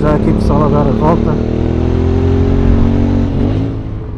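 QJ SRT 600SX motorcycle cruising on an open road, its engine a steady droning hum with a slight rise in pitch near the end, while the rider talks over it throughout.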